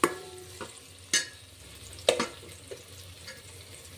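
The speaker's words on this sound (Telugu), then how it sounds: "టమోటా వేసుకున్నాక ఇలా బాగా కొద్దిసేపు బాగా ఫ్రై చేయండి" Tomatoes fry in oil in a pan for egg biryani: a faint, low sizzle broken by a handful of sharp spatula scrapes and knocks as the mixture is stirred.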